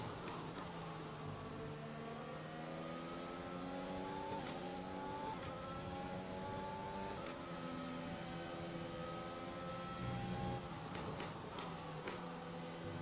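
McLaren Formula 1 car engine in F1 2021 at the Bahrain circuit, a steady high-pitched whine with rising and falling gear tones and a few upshift breaks, continuous and prominent.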